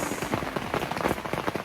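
Rain falls steadily on a rainy day in the woods during a bird hunt, a dense, close patter of drops on surfaces that continues without a break, with no voices.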